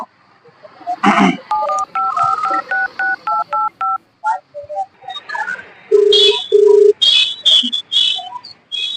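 Telephone keypad dialing tones in a Gujarati comedy scene: a rapid series of about ten short, evenly spaced beeps, followed by two longer ringback tones, with brief speech and whistle-like chirps at the start and high beeps afterward.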